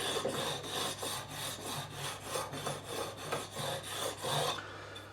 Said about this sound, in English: Just taking the file across here.